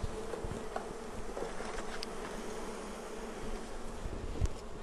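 Honeybees swarm around an open Flow Hive being calmed with smoke, a dense, continuous buzzing hum from many bees close by with occasional sharper passes, no voices.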